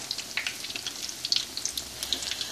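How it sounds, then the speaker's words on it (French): Malanga fritters fry in hot oil, giving a steady crackling sizzle with rapid small pops, close and moderately loud, with no voices. "Une fois que j'ai fait des quenelles, je les ai mis à frire."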